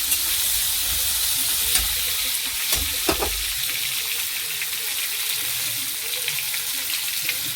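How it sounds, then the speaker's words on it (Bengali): Elephant foot yam and potato pieces frying together in hot oil, a loud, steady, close sizzle with occasional crackles and stirring scrapes. "ওলটা দিয়ে দিচ্ছি তেলের মধ্যে। আলুটা একসাথে দিয়ে দিচ্ছি, ভেজে নেব।"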